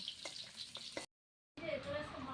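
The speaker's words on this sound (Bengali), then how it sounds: "গ্যাস একদম ধিমে আছে, এটাকে ভেজে নিচ্ছি হালকা হালকা করে সুন্দর" Stuffed pointed gourd frying gently over a low gas flame gives a soft, close sizzle with a couple of faint stirring taps, cut by a brief silent gap before the sizzle resumes.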